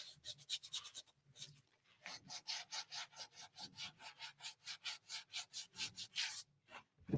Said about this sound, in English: I'm just going to finish sanding this a little bit smooth